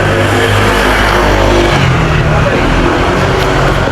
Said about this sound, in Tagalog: Ayan na yung sasakyan namin.